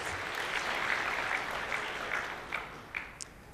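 A conference audience applauds steadily for several seconds, a dense wash of many hands clapping that thins toward the end with a few louder individual claps standing out.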